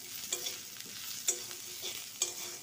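Onion being stirred in a pan with red chili powder, salt and turmeric, a steady close sizzle broken by three distinct scraping strokes of the spoon.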